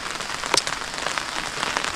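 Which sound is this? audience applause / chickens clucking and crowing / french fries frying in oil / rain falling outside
rain falling outside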